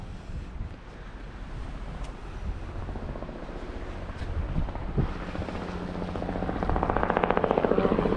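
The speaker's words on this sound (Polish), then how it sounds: "Helikopter." Helicopter flying over a beach in Greece, a steady whirring drone mixed with wind buffeting the microphone and surf, growing louder with rhythmic rotor chop near the end.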